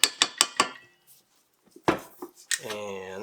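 Four sharp, evenly spaced scrapes of a utensil against a mixing bowl holding cinnamon-spiced carrot cake batter, close and crisp, followed by quieter clinks and then a voice talking.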